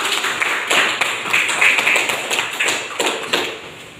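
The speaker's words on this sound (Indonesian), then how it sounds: "Tepuk tangan kepada kelompok 2." A classroom group applauds, a few seconds of loose, uneven clapping and tapping from a small group, fairly close and without speech over it.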